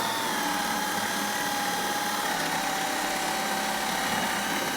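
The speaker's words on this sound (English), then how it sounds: "How far down do you drill?" A power drill whirs steadily without pause as it drills into wood, a sustained mid-pitched motor hum at close range, with no speech.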